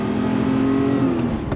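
Porsche Taycan electric car driving along tight, twisty roads, heard from inside as a steady close whir and road rumble with a gliding motor tone, no talk over it.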